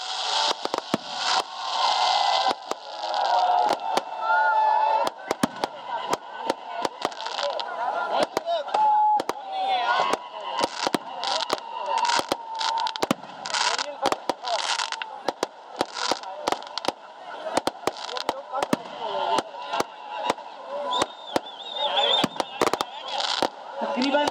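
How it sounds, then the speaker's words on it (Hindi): New Year fireworks display at Liberty Chowk in Lahore: dense, continuous bursts and crackling pops go off in rapid succession, loud and sustained throughout, with a crowd's voices faintly underneath. "लाहौर लिबर्टी चौक में शानदार आतिशबाजी की जाती है"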